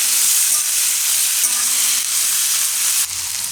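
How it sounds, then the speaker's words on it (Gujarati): Onion sizzling steadily in hot oil in a pan while being stirred, a continuous close, bright frying hiss with soft scraping strokes, no voices. "એકાદી મિનિટ આને પકાવી લેવાની ડુંગળીને."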